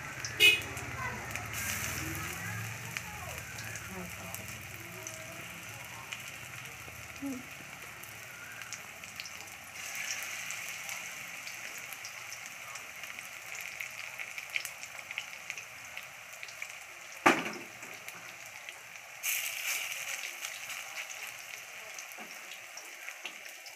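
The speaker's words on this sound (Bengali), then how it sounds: "এই যে তেল গরম হয়ে গেছে কড়াইয়ে, যে বড়া ভাজার জন্য দিয়ে দিয়েছে। গোল গোল করে সুন্দর করে বড়া ভাজছে।" Drumstick leaf fritters sizzle in hot oil in a wok, a faint, steady crackle and hiss with occasional sharper pops, heard close and quiet throughout.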